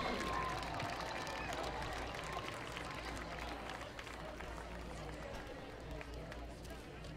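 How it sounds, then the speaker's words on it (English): A football crowd at a school game applauding senior fall athletes, sustained clapping and cheering from many people, mixed with crowd babble and an announcer's voice. "Please give our senior fall athletes a big hand."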